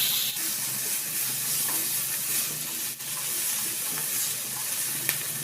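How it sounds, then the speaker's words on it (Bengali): Shrimp, onion and split green chilies fry in hot oil in a frying pan with a continuous, fairly loud sizzle and hiss, broken by light stirring scrapes and a few soft clicks. "ফ্রাই প্যানের তেলও গরম হয়ে গিয়েছে, চিংড়ি মাছগুলি তেলে দিয়ে দিব।"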